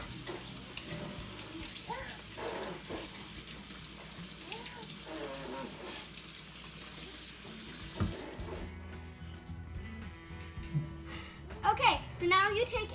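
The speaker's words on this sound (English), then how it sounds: "I'm just gonna wash my hands." Water running steadily from a kitchen tap while hands are washed during pizza making, a constant rushing flow with splashing near the end, under a child's and adult's talk.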